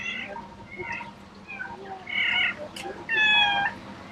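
A Van cat meows repeatedly, several drawn-out cries that grow louder toward the end, with faint voices in the background.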